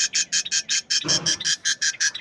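Budgerigars chirp in rapid, regular bursts, a close and loud series of bright twittering calls, about a dozen in two seconds, with a brief rustling flutter in the middle.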